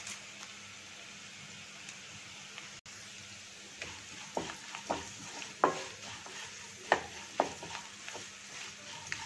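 Curry leaves, onions, cashews and green chilies frying in a pan for tomato bath, a steady sizzle with a series of sharp stirring scrapes and clinks growing busier toward the end.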